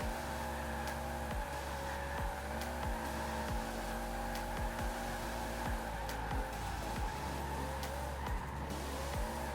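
Car drifting through city circles in Edinburgh in Forza Horizon 4, with a steady engine drone held at high revs and repeated tire squeals sweeping up and down across the slides, loud and continuous with no talk.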